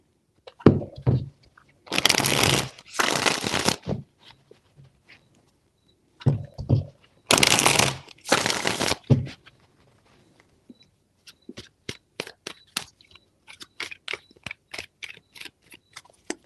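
Tarot cards are shuffled in two bursts of crisp riffling, each lasting a couple of seconds with a short pause between them. Lighter taps and flicks follow as the deck is handled.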